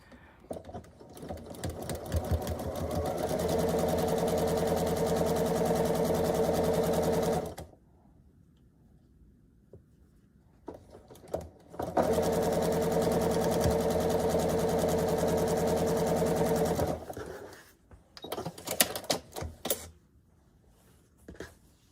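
A sewing machine stitches a quilt block, running in two long, steady bursts of motor whir and rapid needle clatter, separated by quiet pauses and brief handling noises.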